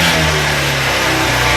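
A motorcycle engine revs loudly and close, a continuous throaty roar held at high revs throughout with no pauses.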